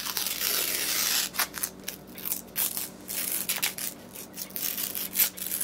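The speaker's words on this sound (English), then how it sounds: "It says tear strips," Paper strips being torn from a Wreck This Journal book: a string of close, crisp ripping and crackling bursts, one after another, with no talk.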